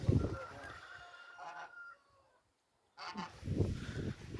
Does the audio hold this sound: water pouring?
no